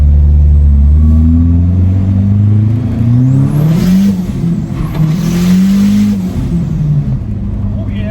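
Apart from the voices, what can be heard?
SRT4-swapped Dodge Dakota accelerating hard in second gear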